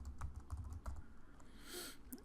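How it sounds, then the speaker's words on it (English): Rapid typing on a computer keyboard during a Windows software install, a close, quiet run of light key clicks in bursts, followed by a brief louder clatter near the end. "just go ahead and type in localhost."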